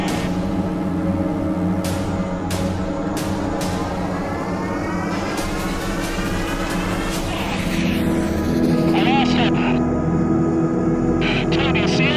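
A fighter jet in a dogfight with an unidentified object near the Nimitz carrier strike group, its steady engine roar filling the scene with rising whine and whooshing passes, mixed under narration and music.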